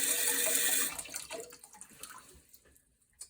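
Water stream from a Tushy bidet attachment, a steady hissing spray for the first second that cuts off and leaves faint drips and small splashes trailing away, close and alone.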